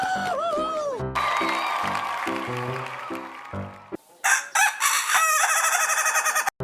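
Rooster crowing in a long, wavering call, followed by a rhythmic electronic beat, then several sharp, loud squawks and clucks near the end.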